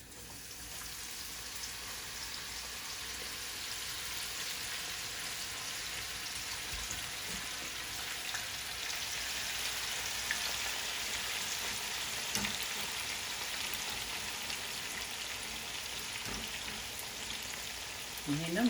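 Flour-coated food for Egyptian koshary frying in a hot pan, a soft continuous sizzle and crackle that holds steady throughout, fairly quiet and close, with occasional faint clicks.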